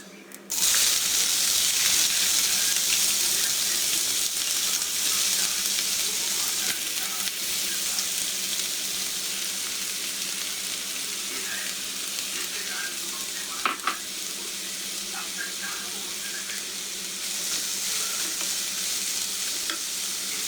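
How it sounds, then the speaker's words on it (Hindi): Onion frying in oil with cumin seeds on a lowered flame: a long, steady sizzle with ongoing stirring and a brief utensil clatter partway through. "ज़ीरा हमारा जल जाएगा। इसमें थोड़ी सी हम प्याज डालेंगे इसमें"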